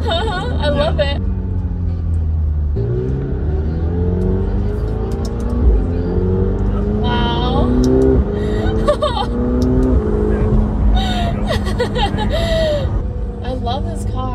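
A McLaren 720S sports car with a turbo engine accelerates, its rising engine note rumbling steadily and close throughout, mostly under excited talk and a gasp from people inside the car.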